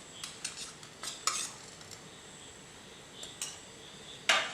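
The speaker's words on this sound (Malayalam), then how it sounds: "ഇനി ഇതെല്ലാം കൂടി നമുക്കൊന്ന് നന്നായിട്ട് മിക്സ് ചെയ്തെടുക്കാം." A spoon clinks and scrapes in a bowl while uzhunnu vada batter is mixed. It makes a series of light, scattered taps at close range, with one sharper knock at the end, against a quiet background.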